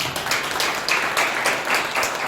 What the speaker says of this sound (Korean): 박수 한번 크게 쳐주시기 바랍니다